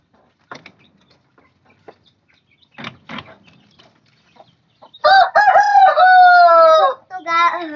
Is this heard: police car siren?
no